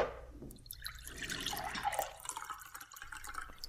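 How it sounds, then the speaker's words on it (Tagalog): Water trickles and drips as it is poured into a glass for drinking, a soft, close liquid sound with small splashes against a quiet room. "Pakiabot mo nga ako ng tubig, Romel."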